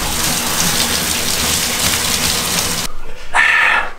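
Running water rinses dye out of hair, a loud steady close gush like a shower spray that cuts out briefly near the end and then returns.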